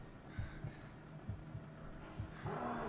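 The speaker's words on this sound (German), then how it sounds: "Ich gehe erst rauf, wenn das Herzklopfen weg ist." A heartbeat in the horror video game The Evil Within thumps in low, paired beats, about four double pulses repeating steadily over a faint background hum.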